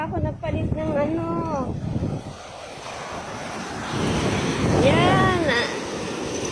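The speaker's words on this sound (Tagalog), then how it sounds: "Ay, ang lakas ng alon." Strong surf at a white-sand beach, loud breaking waves and gusting wind rumbling continuously, with someone speaking over the roar in two short bursts.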